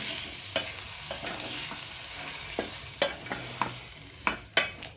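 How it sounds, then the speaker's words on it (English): A spoon stirs tomatoes cooking down in a pan for coconut beans, a soft steady sizzle under about a dozen sharp scrapes and taps against the pan at an irregular pace, close up, with no voices. "Let's stir."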